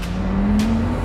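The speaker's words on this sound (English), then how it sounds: "pulling out in a Carrera GT" A 2005 Porsche Carrera GT with a manual gearbox accelerating as it pulls away, a loud, close, steady engine drone that rises slightly in pitch.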